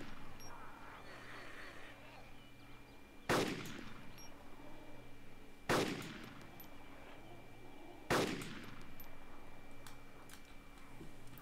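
Three loud, sharp gunshots from the DayZ mod video game ring out about two and a half seconds apart, each with a trailing echo, over a low ambient hum.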